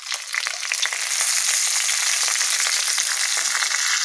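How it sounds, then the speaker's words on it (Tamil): Dried red chillies fry in hot oil for spicy chicken chinthamani, a steady, loud, dense crackling sizzle with rapid pops throughout and no voices. "வரமிளகா நல்லா எண்ணெயிலே பொரியணுங்க"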